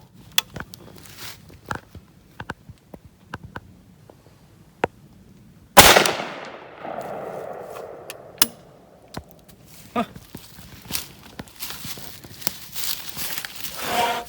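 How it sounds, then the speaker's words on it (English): A 12 gauge shotgun fires buckshot loaded with Blue Dot powder at an outdoor range: one loud, sharp blast with a trailing rumble, set among scattered small clicks and handling noises. "That's the first time I've ever shot Blue Dot in this gun."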